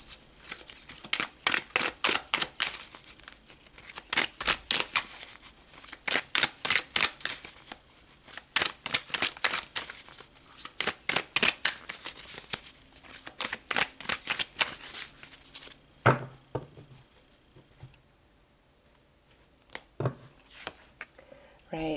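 Tarot cards are shuffled in quick, rhythmic riffling bursts, close and crisp, slowing into sparser handling toward the end.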